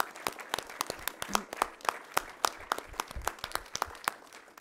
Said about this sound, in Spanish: Y yo sí les voy a pedir a todos ustedes que se den un fuerte aplauso